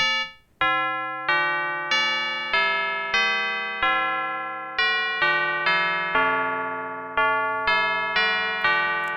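Tubular bell emulation from the modal oscillator of an Arturia MiniFreak synthesizer, a melodic run of about fourteen clear struck bell tones in steady rhythm, each ringing bright and decaying before the next, played alone.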